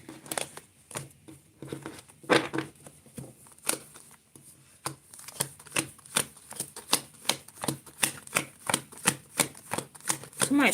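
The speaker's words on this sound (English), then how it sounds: "Just want to shuffle these real good." A deck of reading cards is shuffled by hand in a quiet room, giving a close series of sharp riffling snaps and flicks that fall into a quick, fairly regular rhythm and build in pace toward the end.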